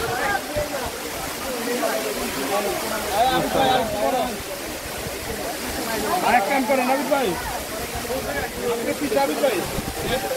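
Dhuppani waterfall, reached by way of Kaptai Lake and Bilaichhari, gives a steady broadband rush of falling water that runs the whole time beneath people talking nearby.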